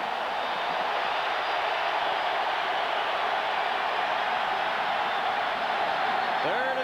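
A packed college football stadium roars during a 1999 Mississippi State at Alabama game, a loud, unbroken wash of crowd noise that stays level throughout.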